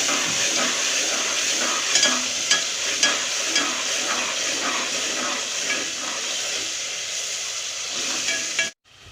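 Garlic ginger paste and tomato masala frying in a pan, giving a steady loud sizzle and hiss with scattered stirring scrapes throughout, no voices, cutting off abruptly near the end.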